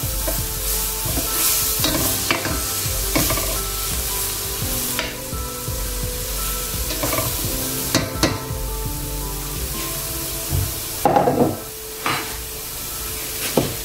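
Baba figue, the edible banana flower, sautéing in a pan with a steady close sizzle and frying hiss, broken by repeated stirring scrapes and clatters, with no talking.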